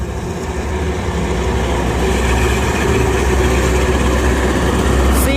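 An express train rumbles loudly and continuously close by as it accelerates, its heavy engine drone building slightly in strength.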